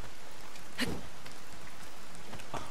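Game rain from Breath of the Wild, a soft steady patter that fills the background, broken by a couple of sharper droplet or splash hits and a faint distant rumble, with no talking.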